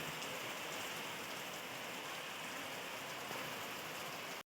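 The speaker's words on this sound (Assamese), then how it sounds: "ইমান জোৰে বৰষুণ জাক আহিলে আমি অকণমান সময় ৰৈ দিবলগীয়া হ'ল" Heavy rain pouring steadily at the Jagannath temple in Upper Assam, a dense, even roar of drops on surfaces that continues unbroken and then stops abruptly.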